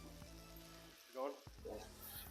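Pancake batter cooking on a Blackstone griddle, a soft steady sizzle and crackle close by, briefly broken by a short gap and a faint voice before the frying hiss resumes.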